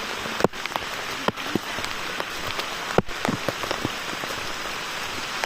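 Steady rain pattering on surfaces along a jungle trek, a dense continuous hiss of drops with occasional louder close splats, no voices.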